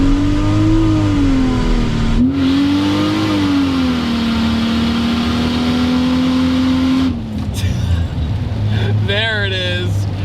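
Turbocharged 700 hp Chevy Trailblazer with an Atlas engine revving loudly up and down in sustained, wavering pulls, then dropping off, with a brief shift burble and a voice near the end.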